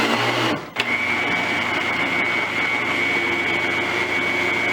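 A blender purees a green banana porridge mixture with flour in a steady, loud motor whir that runs almost without a break, dipping only briefly near the start.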